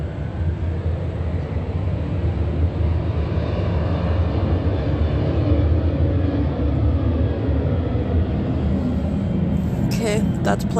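An airplane flies in a straight line directly over a museum, its engine a loud, steady, unbroken roar that holds for the whole stretch, with a voice faintly present.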